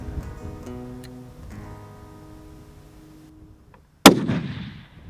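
A single long-range hunting rifle shot fired at mule deer or antelope around 750 yards in Wyoming, a sharp loud crack after a quiet stretch of faint low tones, followed by a rolling echo that fades out.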